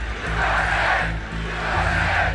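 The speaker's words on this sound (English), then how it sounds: "This is a big, beautiful crowd." Large crowd at a Trump rally, a loud roaring cheer that swells, dips briefly and rises again, with a low rumble underneath and indistinct voices throughout.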